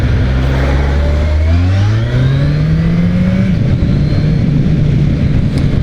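A Yamaha XJR1300 motorcycle engine revs up loud and close as it accelerates past a bus, its pitch climbing steadily through the gears before settling into a sustained roar.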